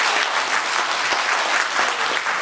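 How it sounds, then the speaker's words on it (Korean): Dense, roaring applause from a lecture-hall audience welcoming a speaker at a public travel talk, sustained and loud from start to finish with no break. "환영의 박수 부탁드립니다."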